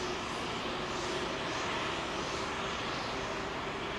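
Airbus A380 double-decker airliner landing at Heathrow, its engines a steady, loud broadband roar with a faint tonal whine, constant and unbroken throughout with no voices.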